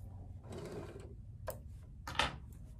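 A sewing machine stitches a placemat tote bag in short bursts, pausing between runs, with a sharper mechanical clatter near the end; quiet and close, with no talk.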